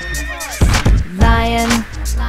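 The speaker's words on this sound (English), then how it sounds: "horse," A horse neighs loudly in a drawn-out, wavering whinny, close up and alone, with a brief rough burst before the main call.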